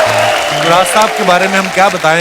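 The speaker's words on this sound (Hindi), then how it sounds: "जोरदार तालियां हो जाए तुराज साहब के" Studio audience applause greets a guest on a Hindi comedy talk show, a steady wash of clapping running beneath a man's continuous speech.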